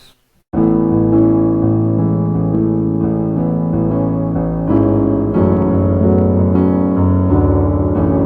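Solo piano plays the verse of a song in a steady flow of chords and melody, loud and close, starting after a short silence, with no voices.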